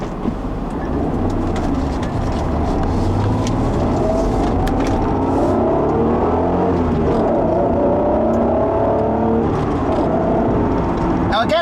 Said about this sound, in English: you hear that engine really, really well behind you